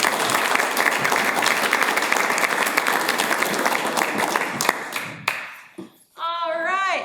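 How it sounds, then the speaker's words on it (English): Applause for a panel at a talk on raising capital, a full crowd clapping in a dense sustained patter for about five seconds before fading out, followed by a speaker's voice. "Give this panel a round of applause."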